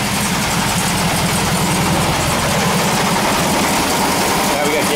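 An air-cooled engine on a 1967 VW bus runs loud and close after a cold start on old gas, with a steady low idle rumble and an uneven, slightly skipping rhythm throughout.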